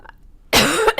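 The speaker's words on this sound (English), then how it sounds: "excuse me, I'm going to cough again." A single harsh cough bursts out loud and close after a quiet moment, during a sit-down interview about blockchain for governments, with a brief rasp trailing off at the end.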